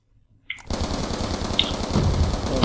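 Rapid bursts of automatic gunfire from the Call of Duty Black Ops 2 video game, loud and continuous after a brief quiet start, with sharper shot peaks near the end.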